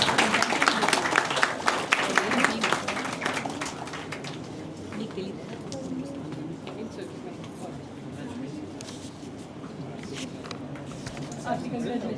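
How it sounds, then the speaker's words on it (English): Audience applause for prize winners at a college department event, a dense burst of clapping that is loudest at first, then thins to scattered claps under low room murmur. "I request everyone to please appreciate them with a great round of applause"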